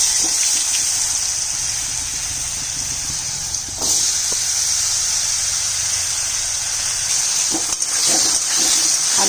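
Potatoes frying in oil with nigella seeds, a loud, steady, close hiss of sizzling oil with a few brief scrapes and knocks of stirring along the way.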